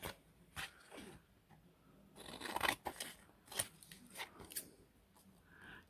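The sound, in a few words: scissors cutting paper for a junk journal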